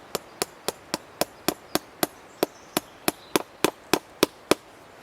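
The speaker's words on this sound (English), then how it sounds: "So get my hammer." A hammer drives wire onto a garden fence meant to keep cows out, striking about seventeen sharp, close blows at a steady, brisk rhythm with no talking.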